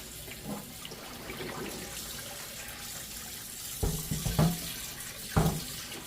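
Tap water runs into a kitchen sink while a cast iron skillet is washed, a soft steady hiss broken by a few sharper splashes and knocks near the end.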